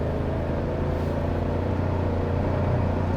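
A 2024 Toyota Tacoma TRD Sport engine pulls at half throttle in eco mode, a steady low droning hum with a faint rising tone heard from inside the cabin, continuous and even throughout.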